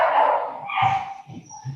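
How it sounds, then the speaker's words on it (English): A dog barks and yips in quick, sharp bursts nearby, a few loud calls spread over a couple of seconds with no talking. "is that a cat dog fight?"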